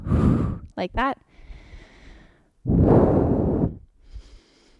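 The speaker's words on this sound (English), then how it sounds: "The sound of my breathing will remind you to breathe." Two long, forceful exhalations of breath during a glute workout exercise, separated by a brief spoken phrase and quiet room noise.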